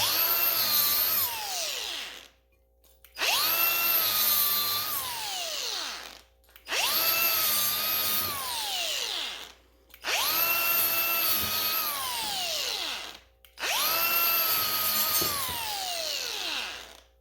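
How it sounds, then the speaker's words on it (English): A power drill fitted with a wire wheel scrubs rust from the inside edge of a trailer in five loud, sustained bursts, each dropping in pitch under load before short pauses. "we're going to try to get that wire wheel on this inside edge there and take off some of that rust"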